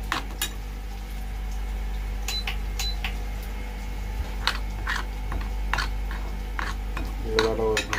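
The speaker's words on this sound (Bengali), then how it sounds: "লবণ দিয়ে এগুলো ভালোভাবে গুলিয়ে নেব।" Spices are stirred with water and salt in a bowl for a rabbit meat recipe: a spoon taps and clinks against the bowl at irregular intervals over a steady low background hum.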